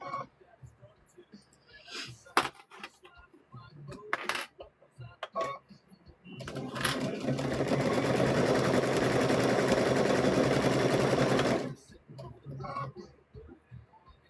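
A sewing machine runs through a quilt square in a steady whirring burst of about five seconds, framed by clicks and clinks of clips and handling sounds before and after.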